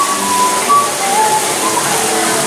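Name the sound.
water spraying noise from tiki statue at Volcano Bay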